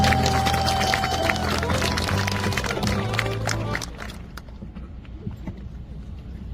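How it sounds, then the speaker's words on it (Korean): A large crowd at an outdoor rally applauds in a loud, dense wash of clapping over music with a sustained tone, then the music cuts out and the clapping thins to scattered claps. "큰 박수 부탁드리겠습니다."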